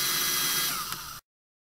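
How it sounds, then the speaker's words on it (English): A power drill bores screw holes for mounting an LED surface-mount emergency warning strobe light, a steady loud whine for about a second that eases slightly before cutting off abruptly. "Using a drill bit of appropriate size, we then drill two holes for the mounting screws."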